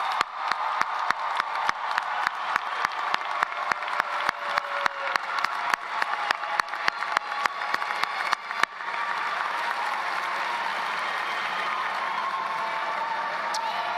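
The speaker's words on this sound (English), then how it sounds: "Join me in giving our graduates one last round of applause." A commencement crowd gives graduates a final round of applause: rhythmic, regular clapping in unison for several seconds, then a looser wash of applause with cheers and whoops from a big hall.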